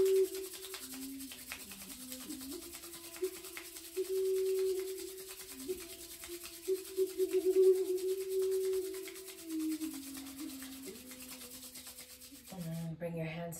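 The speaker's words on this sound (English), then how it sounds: "Rub the hands." Palms rub together in slow, steady strokes, a soft close friction swishing that swells and fades over a faint tonal background hum.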